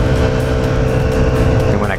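A Honda Ruckus scooter engine running while riding around Lacey, Washington, giving a steady, loud, close-up motor drone with a continuous rumble throughout.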